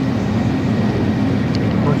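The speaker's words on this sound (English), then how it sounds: "It's an airplane." An airplane passing overhead on a 1993 Navy outing, a steady, loud broadband roar with a low rumble that holds evenly through the whole moment.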